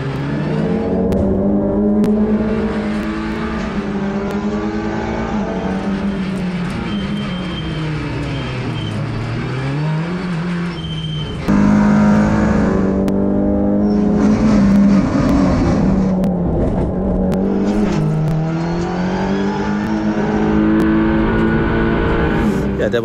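Touring race cars of the TCR series roar off at the start of a race at the Barcelona circuit, a loud dense pack of engines revving and rising in pitch through gear changes for over twenty seconds.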